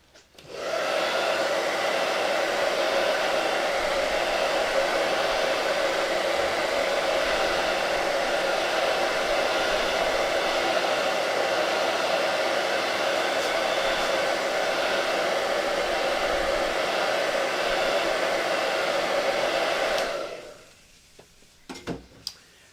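Hair dryer blowing over a silkscreen chalk transfer, a loud, steady, close whooshing hum that runs unbroken for about twenty seconds and then cuts off.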